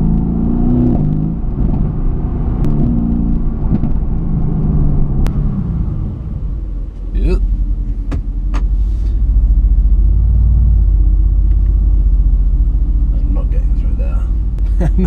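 A Mercedes-Benz SLS engine accelerates hard through quick gear changes, a loud rumbling roar rising and dropping with each shift, with interior cabin noise and a person talking over parts of it.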